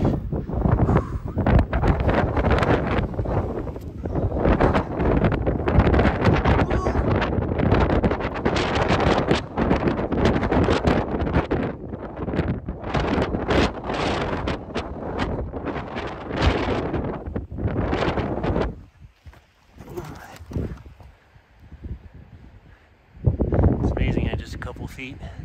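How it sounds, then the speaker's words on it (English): Strong, gusty west-northwest wind blowing outdoors at an RC flying field, buffeting the microphone in loud roaring bursts that drop briefly near the end before surging again. "Winds are out of the west to northwest at 13 miles an hour sustained"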